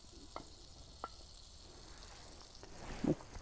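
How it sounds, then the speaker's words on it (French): A small knob of butter sizzles in a pan over an outdoor campfire during a bushcraft-style picnic with eggs. The hiss is faint and steady, broken by a few soft clicks and crackles, with a slightly louder burst near the end. "on va pas laisser cuire le beurre trop longtemps"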